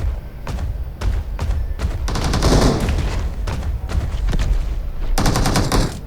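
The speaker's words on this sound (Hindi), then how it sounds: "यहाँ पे फायर हो रहा था" Gunfire in the mobile battle-royale game PUBG Mobile: repeated bursts of automatic shots and heavy thuds, loud and close, filling the whole stretch with no talk over it.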